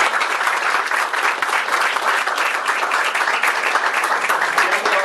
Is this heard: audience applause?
yes